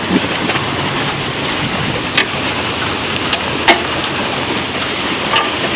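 Heavy rain pours outdoors as a dense, steady hiss with a few sharp drip or splash taps, heard while working on a 1996 Chevrolet Blazer.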